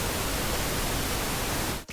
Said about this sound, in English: That noise is all of the frequencies playing at the same time,